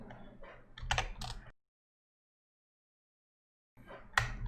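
Shortcut keys tapped on a computer keyboard while working in 3D modeling software, a quick cluster of close clicks, then silence, then a few more sharp presses.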